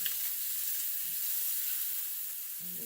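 Scallops searing in a hot pan give off a soft, steady sizzle and hiss, fairly faint and continuous, with a faint clink or two near the end and no talk.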